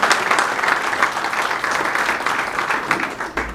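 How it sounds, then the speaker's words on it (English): A round of applause from the crowd at a commemoration of the arrival of Indian indentured labourers in Durban, loud and steady clapping that carries through and fades slightly at the end. "So I think a big round of applause for that, please, everybody."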